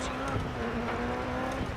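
A rally car in the video game DiRT 4 accelerates off the start line of a Michigan stage, its engine droning loudly and steadily with gravelly road noise for a brief moment.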